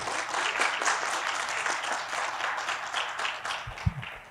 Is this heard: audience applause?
yes